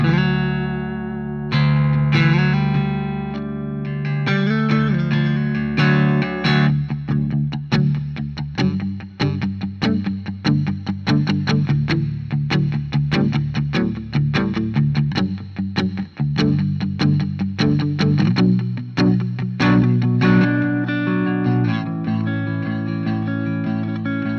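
An electric guitar with a humbucker pickup plays through a Two Notes ReVolt amp simulator pedal on its clean channel with a boost. The lively, driven chords and single notes ring continuously and loudly with no talking.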